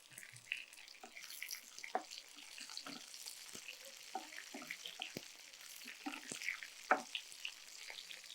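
Onions fry on a high flame in a pan after ginger and garlic go in, giving a faint, steady sizzle with scattered clinks and stirring scrapes throughout.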